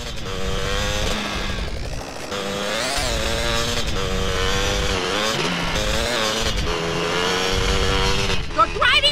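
A car in GTA San Andreas roars along with a revving engine whose pitch climbs and drops as it accelerates, loud and steady for several seconds, mixed with game voices and background noise.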